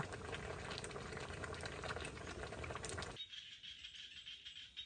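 Water boils in a pot with a dense, bubbling patter that fills the first three seconds and then cuts off sharply, leaving only a faint hiss.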